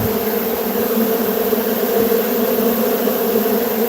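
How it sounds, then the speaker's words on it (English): A dense, steady buzz of many honeybees settling into a swarm trap, close and continuous, with no voices over it. "That noise is that these bees just went, yes, we've got a home."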